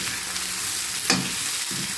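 Crab and shrimp sauté in a pan with a constant close sizzle, broken by a couple of quick stirring scrapes.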